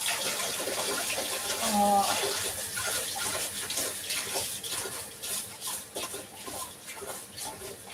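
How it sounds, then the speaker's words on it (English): Tap water runs steadily as a mixing bowl is rinsed under it in a home kitchen while baking a vanilla sponge, a continuous broadband splashing stream lasting throughout, close and fairly loud. "I just want to wash that because I'm going to use it to beat some egg whites"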